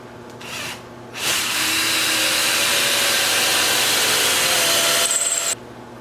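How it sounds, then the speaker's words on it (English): A power drill bores a 5/16 inch hole into pine wood for about four seconds, a loud continuous whine with grinding texture, starting after a brief motor rev and stopping abruptly. "So now I'm just going to drill a 5/16 inch hole."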